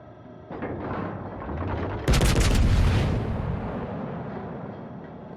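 Heavy naval gunfire from the Kronstadt battlecruiser in a warship game: a rumbling salvo builds, then a sharp, loud burst of cannon blasts and shell impacts cracks out and slowly rolls away.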